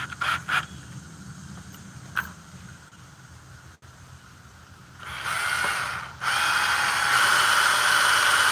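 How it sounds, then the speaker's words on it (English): A power drill bores into a wooden workbench: a few short bursts and taps, then a louder sustained whine that cuts briefly and resumes, running close and steady. "I'm just drilling in my bench right here."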